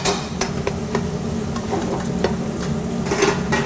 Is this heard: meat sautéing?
yes